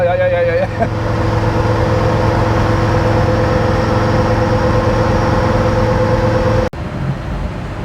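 A Land Rover Defender Td5 fitted with a GTB550 turbo and a Darkside tubular manifold drones steadily on a dyno, loud and close, before the engine note cuts off abruptly near the end.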